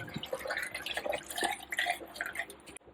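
Water trickling and dripping from a freshly soaked cooling cloth during a heatwave aboard a narrowboat, a steady, close, low-level patter that ends abruptly.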